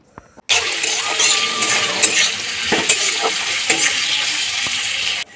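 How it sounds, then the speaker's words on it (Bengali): Sliced onions hitting hot oil in a wok with whole garam masala, dry chillies and bay leaves, setting off a loud continuous sizzle with scraping stirs and clinks of the spatula. "দুটো বড় পেঁয়াজ কেটে রেখেছিলাম সেটা দিয়ে দেবো"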